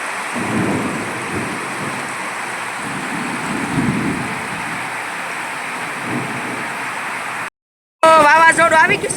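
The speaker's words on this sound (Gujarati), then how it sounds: "વાવાઝોડું આવી ગયું છે મારે." Rain pours steadily during a village windstorm with low thunder rumbling in swells beneath the hiss, loud and close; the sound cuts out briefly near the end, then returns with a voice speaking over the rain.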